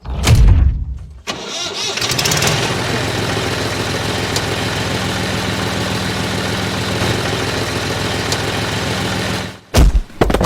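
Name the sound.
tractor engine starting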